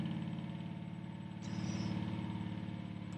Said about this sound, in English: these trucks out here have got such noisy exhaust brakes